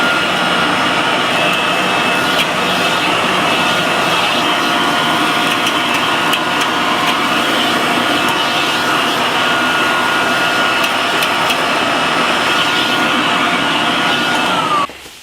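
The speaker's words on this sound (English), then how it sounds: "Put the vacuum hose attachment on. Let's go." A Kirby vacuum cleaner fitted with its hose attachment runs steadily, sucking up wires, a loud constant whining motor roar with a faint high tone, then the sound abruptly drops away at the very end.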